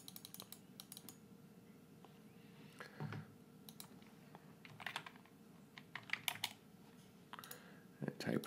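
Fingers type on a computer keyboard in irregular bursts of close, light key clicks with brief pauses between, over a faint steady background hum.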